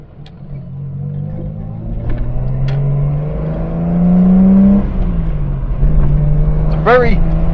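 A Leyland Marina six-cylinder car engine roars loudly as it accelerates, pitch climbing, dipping at a gear change, then rising again; heard from inside the car.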